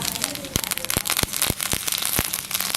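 Mustard seeds crackle in hot oil in a pan, with sharp, irregular pops snapping close over a constant sizzling hiss.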